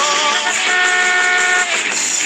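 Car horns blare steadily in a stadium car park after a Dolphins rugby league win against Canberra, a loud, sustained, overlapping chord of honks with no break.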